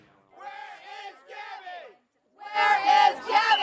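A protest crowd shouts in unison in two bursts: a rhythmic chant, a brief pause, then a louder, fuller roar of massed voices close by.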